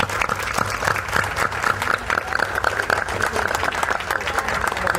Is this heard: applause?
yes